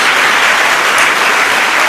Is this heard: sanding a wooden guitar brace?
no